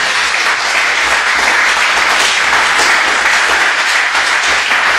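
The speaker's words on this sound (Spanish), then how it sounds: "Den un aplauso al Señor." Loud congregation applause in a church, a thick, continuous roar of clapping from a large crowd that holds steady for several seconds with a low hum beneath it.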